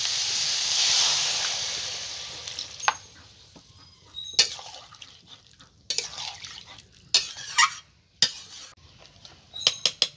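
Water poured into a pan of fried cauliflower gives a loud hissing burst of steam that fades, followed by intermittent clinks and scrapes of a utensil against the pan.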